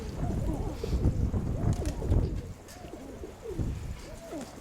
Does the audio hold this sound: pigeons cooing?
yes